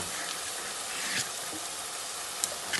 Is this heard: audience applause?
no